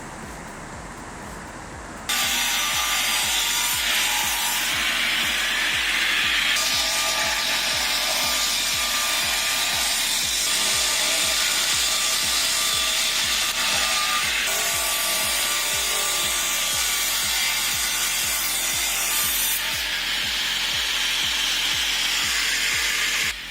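A chainsaw bites into a large log during heavy stump removal: a brief quieter lead-in, then a loud, sustained, gritty cutting roar with a steady pulsing chatter that holds for about twenty seconds.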